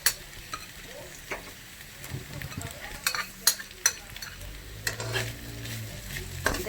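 Italian sausage frying in a pan, with a soft steady sizzle and intermittent stirring and scraping clicks of a utensil against the pan, close by and moderately quiet, no talking.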